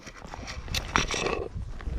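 A sorrel horse being ridden, its hoofbeats thudding amid steady broadband outdoor noise with a few brighter scrapes, fairly close and moderately loud.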